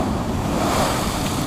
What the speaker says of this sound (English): We have got some big old waves crashing up through here.